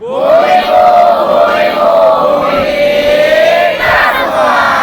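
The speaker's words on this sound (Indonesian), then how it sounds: "Tepuk tangan." A large crowd at a 2021 geography education event cheers and shouts in a loud, sustained roar of voices that rises and swells for several seconds.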